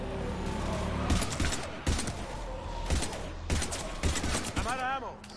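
Rapid bursts of gunfire fill a Mass Effect 3 firefight against husks, volleys stacking over a dense battle bed with brief gaps, while a voice shouts orders in the mix.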